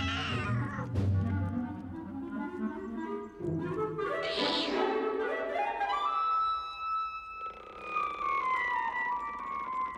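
A cat meows and yowls in long, wavering, sliding cries, rising and falling in pitch over several seconds, fairly loud and close, with no speech over it.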